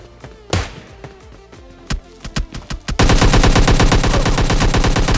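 Gunfire in PUBG Mobile Lite, including an SLR: scattered single sharp shots at first, then a loud, sustained rapid-fire burst rattling continuously to the end.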